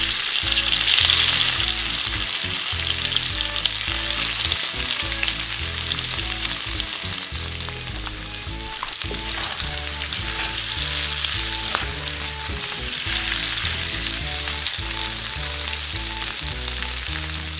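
Frog legs frying in hot cooking oil give a loud, steady, close sizzle with constant crackle that runs unbroken throughout, with no voices.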